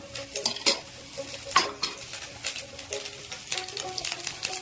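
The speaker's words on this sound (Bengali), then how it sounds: "টমেটো বাটাটাকে এবার কড়াইয়ের মধ্যে দেওয়া হচ্ছে।" Tomato paste fries in a wok, sizzling softly while a spatula scrapes and knocks against the metal in repeated close strokes, with brief clinks of utensils between.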